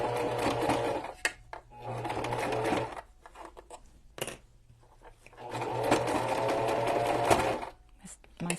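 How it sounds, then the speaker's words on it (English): A sewing machine stitching a cover for a vintage Paris journal, running in several bursts of rapid mechanical whirring separated by pauses, close up, with a voice talking in between. "My sewing machine is still trying to snag on me."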